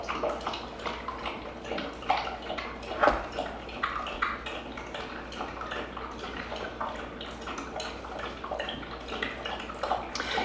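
Wet lapping and splashing of a dog drinking water, steady and close, with small gurgles and drips throughout and one louder slosh partway through.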